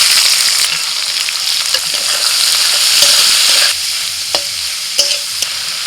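Chopped onion hits hot oil spiced with dried red chilli, bay leaf, cardamom, cinnamon and cloves, crackling in a loud, close sizzle broken by sharp scrapes and knocks of a spoon stirring the pan.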